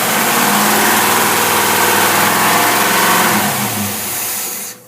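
A car engine fitted with a Rochester Quadrajet carburetor revs loud and close, holding high rpm for several seconds before dropping back and cutting off abruptly.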